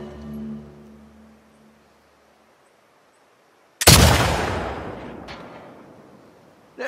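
A single loud rifle shot cracks out in The Last of Us Part II after quiet background music fades, followed by a long rolling echo that decays over several seconds and a fainter second report near the end.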